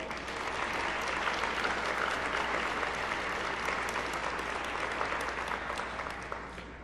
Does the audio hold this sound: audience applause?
yes